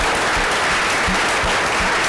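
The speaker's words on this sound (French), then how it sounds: "Je vous demande de l'applaudir très très très fort." An audience bursts into loud, dense applause for a newly married cameraman at an event about studying in the United States; the clapping is close, continuous and fills the whole moment.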